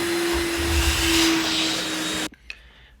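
A carpet cleaning machine works loud and steady on a filthy stairway carpet, its motor whine droning close up for about two seconds before cutting off abruptly into quiet with a small knock.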